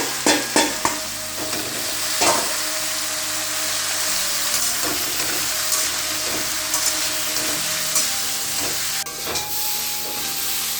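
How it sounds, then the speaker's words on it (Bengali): Mustard seeds and asafoetida temper in hot oil for a vegetable dish, a steady loud hiss and sizzle with scattered crackles and occasional clinks of a utensil against the pan. "একটুখানি সর্ষে ফোড়ন দিলাম, একটু হিং দিলাম"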